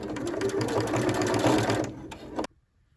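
A sewing machine stitches an XXL scrunchie, its rapid steady motor whir running loud and close for about two and a half seconds before stopping abruptly into near silence.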